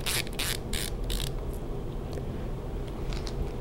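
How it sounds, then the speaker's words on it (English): Screws being removed from a Smith & Wesson revolver: quick scraping, ratcheting clicks close up at the start, then quiet, low handling noise with faint taps. "I'm going to proceed to take these screws out."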